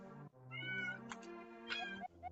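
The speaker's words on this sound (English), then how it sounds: "tend to my cat, see why she's meowing" A pet cat meows repeatedly, several drawn-out, clear mews close by in a quiet room with no other sounds.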